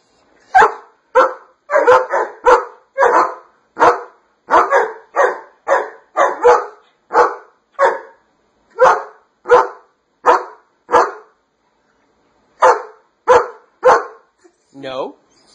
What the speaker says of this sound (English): You're not gonna bark anymore.